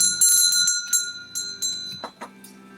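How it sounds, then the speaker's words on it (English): Bright metallic bell strikes rung by hand, several sharp dings in an uneven rhythm, some ringing out and others quickly damped, heard close and clear in an indoor space. "I want to ring the bell."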